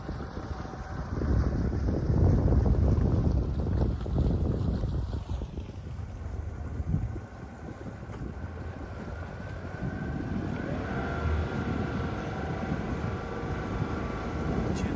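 A motorboat's powerful outboard motors drone and churn water nearby as it leaves a slipway in the Maldives, then recede, leaving wind buffeting the microphone and a fainter motor hum.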